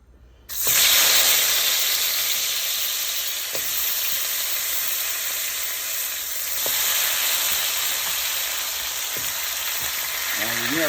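Beef neck bones hit hot vegetable oil with a sudden loud sizzle that holds as a steady, close frying hiss, broken now and then by faint clicks and pops.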